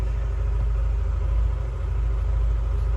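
A scooter-type automatic motorcycle engine running steadily on a dynamometer, a constant low rumbling drone at close range with no talking.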